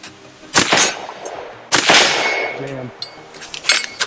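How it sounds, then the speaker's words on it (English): Rifle firing 5.56 or .300 BLK rounds at a shooting range: two loud, sharp gunshots about a second apart, each with a ringing tail, followed by a fainter clatter near the end. "All right, shoot a couple rounds."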